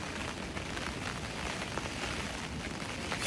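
Steady rain patters on a tent close by, a dense, even hiss of drops with no voices.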